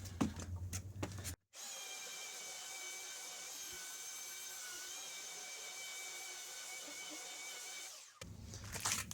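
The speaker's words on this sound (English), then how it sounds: "And then I'll clean it up with a belt sander." A belt sander runs continuously on a wooden flume for about seven seconds, a steady whining hum with a bright tonal edge, close and even. Short bursts of handling noise come before and after.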